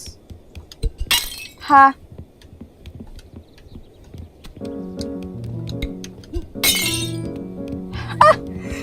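Glass clinking and breaking in Untitled Goose Game: sharp bright impacts and a shattering burst heard twice, each time briefly, over light game music, with a player speaking and laughing between them.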